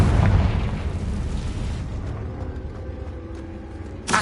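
A Confringo explosive spell blast in Hogwarts Legacy, a loud booming burst at the start that rumbles and decays over a few seconds, followed by a short sharp pop near the end.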